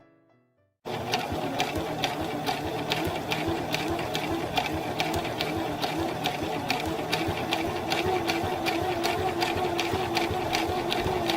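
A sewing machine stitches bias tape wrapped around cording to make piping for an 1830s-style dress, running in a steady, close, continuous whir with rapid rhythmic needle ticks after a brief quiet start, and no talking.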